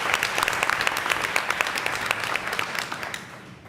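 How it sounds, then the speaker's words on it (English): Applause from the audience at a school board of education meeting, dense and steady clapping that stays loud throughout and thins slightly toward the end, with no speech over it. "yes, round of applause for that"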